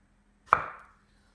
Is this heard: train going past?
no